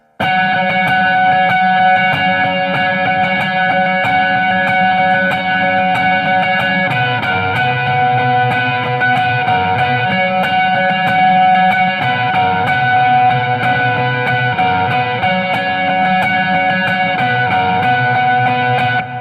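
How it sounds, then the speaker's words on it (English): Steady distorted electric guitar chugging with muted, percussive strums in a continuous rhythm, loud and close with no talking. "your right hand to palm mute the lower strings"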